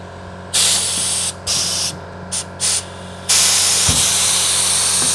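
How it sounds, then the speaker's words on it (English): Air compressor and air line blasting while working on a tire off a 1968 Karmann Ghia, several loud hissing bursts of uneven length, then a long sustained blast near the mic, no talk. "Hello, compressor."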